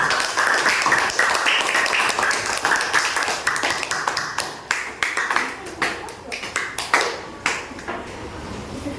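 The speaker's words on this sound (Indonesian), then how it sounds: "Ayo dari sebelah tepuk tangan dulu untuk kelompok A." A classroom of students claps for group A, starting as a dense burst and breaking into scattered, separate claps that fade toward the end, with some talking in the room.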